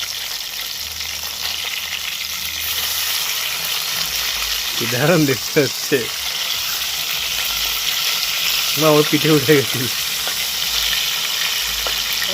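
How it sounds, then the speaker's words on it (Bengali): Two pomfret fish frying together in a pan with a steady, hissing sizzle throughout, while a voice talks briefly over it in two short bursts. "দুটো দুটো ভাজবো একসাথে দুটো করে ভাজবো"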